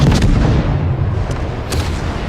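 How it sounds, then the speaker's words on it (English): Naval guns in World of Warships fire shells that strike an enemy frigate, a dense, loud rumbling barrage of booms and blasts with a couple of sharper cracks, continuous and close. "We're getting some shell hits"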